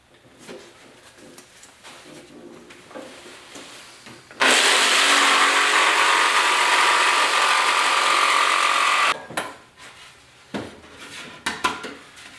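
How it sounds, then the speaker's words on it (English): Pocket holes are drilled into wood for a standing lattice. Quiet handling and clicks lead into one loud, steady drilling burst of about five seconds, followed by light clatter and taps. "Just putting in the pocket holes here."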